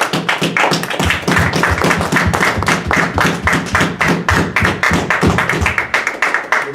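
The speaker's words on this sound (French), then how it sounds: "Une main d'acclamation à la parole." A church congregation claps in unison at a French-language service, producing a loud, close, steady rhythmic beat of hand claps that keeps going without pause.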